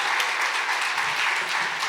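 Audience applause at a concert, a steady, dense wash of clapping that stays loud and even throughout, with no voices over it.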